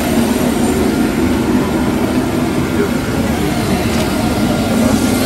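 An airplane engine roars at an arrival in Bunia in the evening: a loud, steady, broadband drone that holds throughout without a break.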